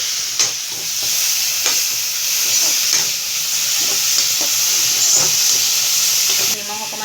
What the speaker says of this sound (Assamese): লৰাই দিছোঁ